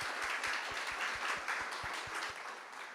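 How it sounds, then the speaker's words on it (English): A conference audience applauds warmly, a dense wash of clapping that holds steady and then slowly tapers off. "give Jonas a warm round of applause."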